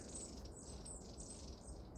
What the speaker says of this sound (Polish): Sikoreczki jakieś czy co.